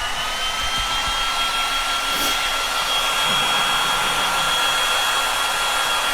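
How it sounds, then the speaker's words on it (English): A heat gun blows a steady, loud, close whoosh with a faint whine, drying Terra Clay paint on a piece of furniture being painted with a Northern Lights design. It runs continuously with no talking. "we're gonna now hit it with the heat gun"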